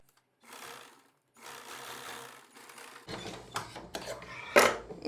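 Short bursts of a sewing machine stitching a blouse lining, two brief runs followed by choppier clattering starts and stops with clicks of handling close by.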